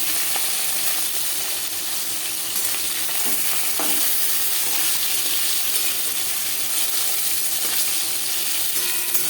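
Steady, loud sizzling and crackling of rohu fish frying in hot oil, continuous throughout with occasional sharper pops.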